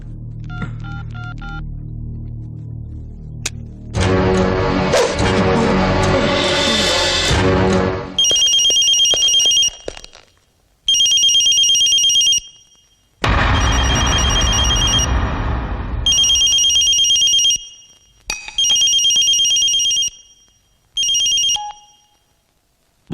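A phone ringtone in an action film scene rings loudly in repeated bright electronic bursts separated by short gaps. It is preceded by a dense swelling stretch of music-like sound, and a low rumble returns briefly between rings.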